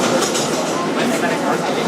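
A Kawasaki R-188 subway car on the 7 local in New York City, running toward Flushing Main Street with a steady rumble and some clinking. The train noise is dense and continuous at close range, with a faint thump at the end.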